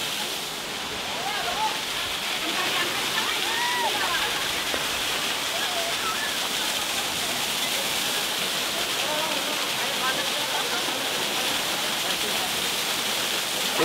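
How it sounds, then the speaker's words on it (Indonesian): A small village waterfall used for bathing, rushing in a constant, loud wash of falling water close by, with faint voices in the background. "Jadi ini memang air terjun yang kecil ya"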